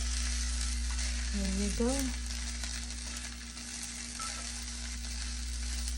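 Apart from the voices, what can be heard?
fried rice sizzling in a pan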